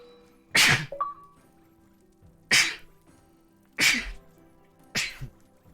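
Four sneezes in a row, loud and close, each a sharp burst a second or so apart, with quiet game sounds between them and no talk.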